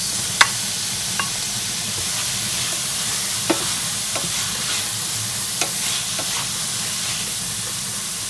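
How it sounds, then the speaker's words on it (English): Sliced mushrooms frying in a pan for fettuccine carbonara, producing a steady soft sizzle and hiss with a few sharp clicks and taps of a utensil, close and without talk. "And now I'm adding the mushrooms."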